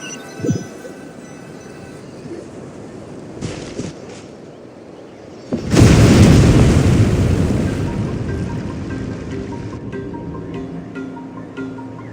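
A deep, loud explosive boom in Genshin Impact erupts suddenly and rolls on into a long rumbling roar that slowly fades, preceded by a few quieter thuds.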